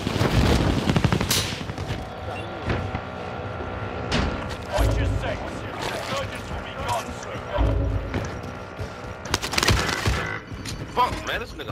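Gunfire fills a Call of Duty match. Sharp shots and bursts come in irregular clusters, with a heavy volley at the start and another near the end.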